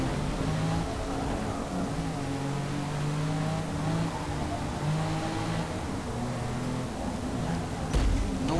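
Race car engines in the Forza Motorsport video game, Built For Sport Championship, drone steadily and loudly throughout, several cars revving and shifting close together in dense traffic, with a brief sharp knock near the end.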